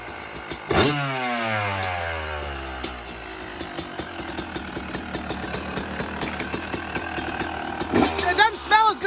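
Two-stroke dirt bike engine, a 2021 Yamaha YZ250 or 1990 Suzuki RM125: a loud rev sweeps down into a crackling, popping idle, then sharp throttle blips near the end, with people talking nearby.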